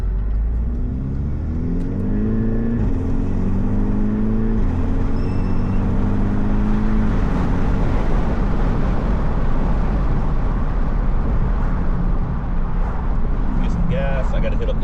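Steady car engine and road rumble fill the cabin through slightly opened back windows, a continuous drone with a gentle rev rise early on, heard up close for the whole stretch.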